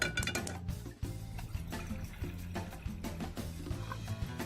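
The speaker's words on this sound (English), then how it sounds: "We're going to start out with a pot of water for the pasta." Water runs from a tap into a metal pot for pasta, a gurgling stream with clinks against the vessel and a pitch that shifts as the pot fills, close and fairly loud with no talking.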